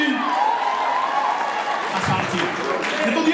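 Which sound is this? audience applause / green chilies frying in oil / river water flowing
audience applause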